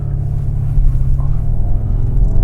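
A Skoda Octavia vRS Mark III with 220 PS, DSG gearbox and front-wheel drive cruises along, its steady low engine and road rumble filling the cabin without pause and with no talking.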